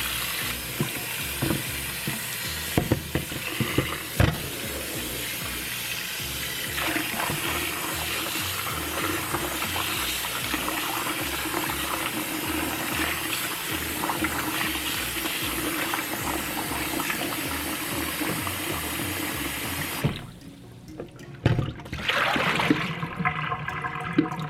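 A kitchen tap runs continuously while raw pork is rinsed a second time after soaking in vinegar water, a steady loud rush with handling splashes, then the flow stops briefly before a few clattering sounds.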